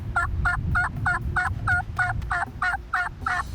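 Wild turkeys gobble in a steady run of about ten calls, each a rapid rattling burst, over a low rumbling background of wind or handling noise during a spring hunt.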